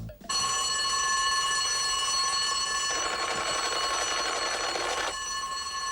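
A fire station alarm bell in the animated Swiss German series Füürweehrmaa Sämi rings loud and continuous, a sustained metallic electric ringing that carries on without pause for several seconds.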